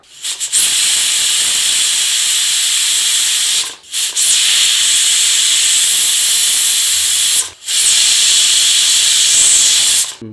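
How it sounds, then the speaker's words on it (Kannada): A pressure cooker on the stove lets off loud, sustained steam whistles close by, three long hissing blasts divided by short pauses, with no talk. "ಈಗ ಇದು ಸಿಟಿ ಹೊಡೀಲಿ, 3 ಸಿಟಿ ಹೊಡೆದಿಂದ ನಾವು ಸಿಗ್ತೇವೆ ನಿಮಗೆ."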